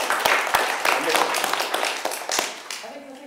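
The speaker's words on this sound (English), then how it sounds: "I think that is a halfway applause" Brief audience applause at an academic history conference round table, a scattered patter of clapping hands that fades out within a few seconds, with some murmuring underneath.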